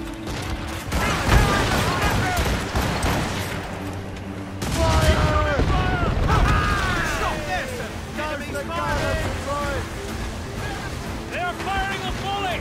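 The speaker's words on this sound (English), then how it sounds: "They are firing a volley!" Musket volley gunfire in Assassin's Creed Rogue crackles as a dense, rolling fusillade, with shouted voices and battle clamour layered over it throughout.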